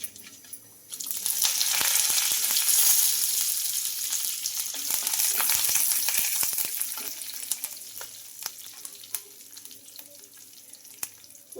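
Spices with asafoetida crackle and sizzle in hot oil for tempering, a steady hiss with scattered pops that eases off toward the end.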